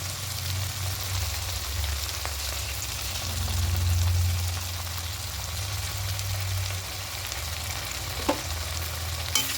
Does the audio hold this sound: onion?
yes